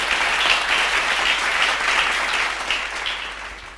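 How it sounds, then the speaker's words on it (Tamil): Steady applause from a congregation at a Bible study gathering, a dense even patter of clapping hands lasting throughout the clip with no voices over it. "கைத்தட்டி வருது."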